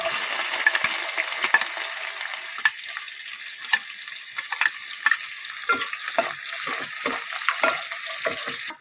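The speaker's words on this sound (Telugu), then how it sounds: "ఆయిల్ హీట్ అయింది కదండి. ఇప్పుడు ఉల్లిపాయలు వేసుకుందాం." Onions dropped into hot oil in a pan while cooking moong dal rice, giving a loud, steady sizzle and frying hiss throughout, with a few stirring clinks and scrapes.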